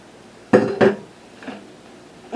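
Drained chicken tossed back into a metal pan: two quick close clattering impacts of food and metal, then a fainter knock, in a quiet kitchen.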